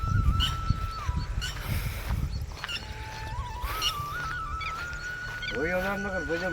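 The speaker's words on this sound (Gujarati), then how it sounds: "કેમ છે કૂતરાનું સાઉન્ડ?" A dog howls in long, sustained, wavering tones that rise and bend, ending in a series of shorter, choppier cries. The howling carries over steady background noise near a flooded Shetrunji river.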